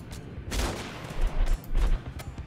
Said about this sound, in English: Oh, that's a fire bomb actually.